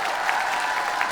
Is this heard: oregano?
no